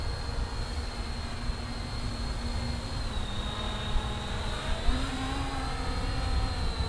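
An MJX Bugs 6 drone flies and hovers with a steady, close mechanical whine. Its pitch drifts slightly as the throttle changes, and no voices are heard.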